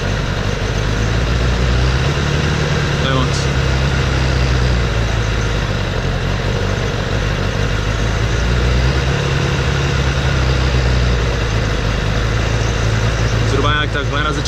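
A Suzuki Bandit 600 motorcycle engine with unsynchronized carburetors idles steadily and loudly up close, its rough uneven beat running continuously throughout.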